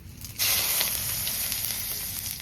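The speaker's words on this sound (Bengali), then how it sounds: "মাছ ভাজার তেলে একটু তেল দিয়ে দিচ্ছি, অল্প কিছু গোটা জিরে আর তেজপাতা ফোড়ন দিয়ে দিচ্ছি।" Whole cumin seeds and bay leaves hit hot oil left from frying fish, bursting into a loud, steady sizzle that holds close and continuous after a brief quiet start.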